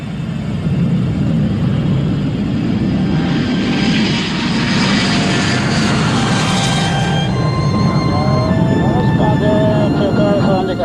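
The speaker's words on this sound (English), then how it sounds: "He made a final instrument check, pressed open the throttles, and released the brakes. The Arrow was ready for takeoff." Avro Arrow jet aircraft at full throttle on its takeoff run, a loud, steady, close roar that fills the whole stretch, with rising whining tones growing clearer toward the end.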